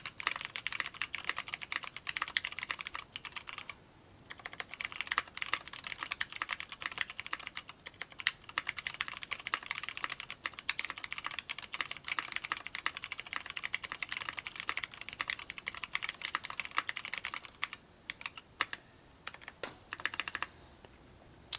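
Steady, fast typing on a Mode65 mechanical keyboard with Ergo Clear switches and PBT keycaps, a dense run of soft clacking keystrokes with a few brief pauses.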